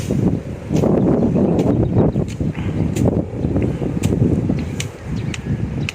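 Wind gusts buffet the microphone in low rumbling bursts, with faint rustling and a few brief clicks scattered through.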